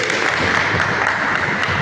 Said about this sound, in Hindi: जोरदार ताली होनी चाहिए डबल से।